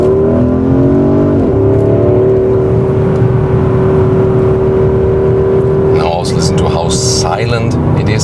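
Porsche Cayenne Turbo Coupé engine with a high turbo whine, a steady loud drone held under someone talking throughout, with a faint shift of pitch near the start.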